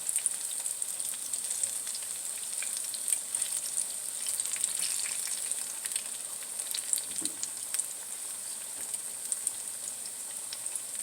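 Banana cue browns in hot olive oil, giving a bright, continuous sizzle with scattered pops that stays steady and close.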